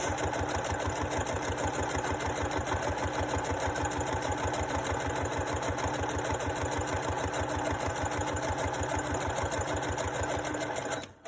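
A sewing machine stitches a book-page pocket for a junk journal, starting with a back stitch, its rapid even needle chatter running loud and steady for about eleven seconds before stopping.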